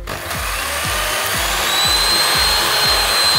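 An electric hand mixer beats 100 g of sugar in a home kitchen with a steady, loud motor whine and rhythmic scraping knocks from the beaters against the bowl, running without a break.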